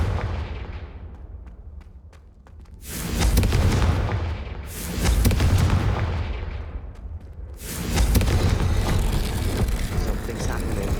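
Confringo spell explosions go off in Hogwarts Legacy, with three loud, booming blasts a few seconds apart, each rolling off into a long rumble.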